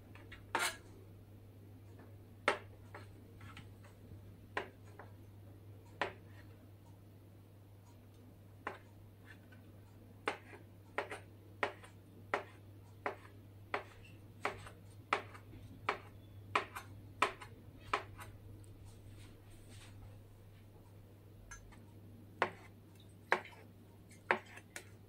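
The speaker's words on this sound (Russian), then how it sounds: "Так миленько мы нарезаем яйца." A knife cuts boiled eggs on a board in a kitchen, a series of sharp, distinct taps at an uneven pace over a low steady hum.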